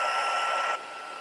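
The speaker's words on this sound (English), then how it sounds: "I'm going to get my heat tool in, and I'm going to heat this until that is set" Heat tool blowing hot air onto a bleached image to set it, a loud steady close whoosh that drops abruptly to a quieter level near the end.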